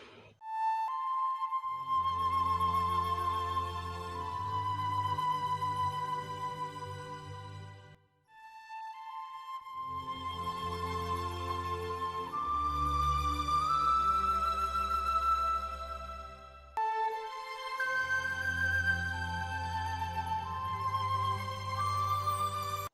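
Intro music from a Bollywood song: a melodic lead over sustained low notes, played in three phrases separated by brief pauses.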